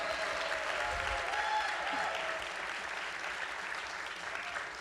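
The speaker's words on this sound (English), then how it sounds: "Can everyone please give Sam another round of applause?" An audience at a live community storytelling show gives a steady round of applause, a dense wash of clapping that swells slightly then gradually thins, heard from a moderate distance in a hall.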